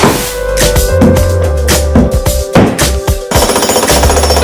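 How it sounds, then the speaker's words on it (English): Jackhammer breaking up tiled concrete during a house renovation, a loud, continuous rapid hammering with rattling debris, close and dominating throughout. "We got the whole concrete with the tile on all jackhammered and up"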